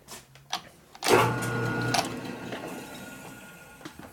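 A machine cuts a chamfer on a Harley panhead motor part from a 1965 74ci FLH engine, a brief mechanical whir and scrape rising after a few clicks, then fading with small knocks.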